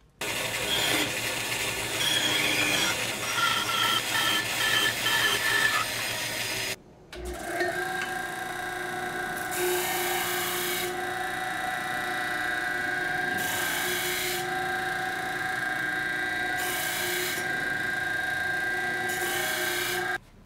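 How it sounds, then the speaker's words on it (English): A bandsaw cuts purpleheart wood with a continuous loud buzzing rasp, a brief pause near the middle, then a steadier hum with the cutting noise swelling and easing in regular bursts. "Mark a hole and cut it out on the bandsaw."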